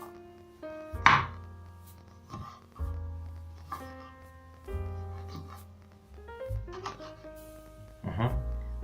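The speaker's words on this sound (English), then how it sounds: "Then we are going to chop our lemons into small pieces." A knife chops fresh lemons into small pieces on a cutting board for homemade lemonade, giving a handful of sharp, close thuds spaced irregularly over soft background music.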